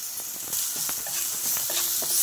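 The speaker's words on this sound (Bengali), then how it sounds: "পেঁয়াজটা আমি হালকা করে ভেজে নিচ্ছি।" Onion frying lightly in a pan, giving a steady close sizzle with soft scraping stir noises and small pops throughout.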